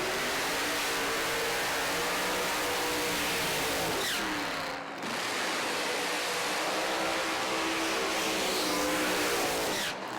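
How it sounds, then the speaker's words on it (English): Alcohol-fuelled drag racers, a funny car and a dragster, launch off the line together with a loud, sustained engine roar that rises in pitch, dips briefly midway, then surges again. "Steve Reid in the funny car taking on Peter Zello in the dragster now"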